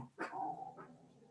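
Female dogs barking indoors during a Spanish-language online labour law workshop, a single short bark followed by a brief growling whine, fairly faint and heard alone.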